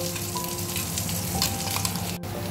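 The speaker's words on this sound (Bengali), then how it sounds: "এবার সেই পেস্টটাই আমি তেলের মধ্যে আবার দিয়ে দিচ্ছি।" Spice paste frying in hot oil for a fish curry, with a dense, continuous close sizzle and bubbling under faint kitchen hum, no talking.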